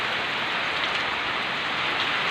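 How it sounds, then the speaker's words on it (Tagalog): Heavy rain pours steadily, a dense continuous hiss of drops drumming on surfaces, loud and close with no pauses. "Ayan, lakas ng ulan."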